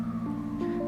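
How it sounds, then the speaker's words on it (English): An emergency vehicle siren wails in the background, a steady tonal whine with a pitch shift near the end, heard alone without talk. "I don't know if you can hear the siren in the background."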